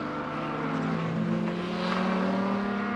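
A BMW stock car engine revs at the Border Stockcars oval, a loud sustained droning roar that holds steady as it laps, with no talk over it.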